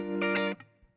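A dry guitar loop without chorus, a single bright chord ringing for about half a second, then cutting off into a faint tail, clear and alone.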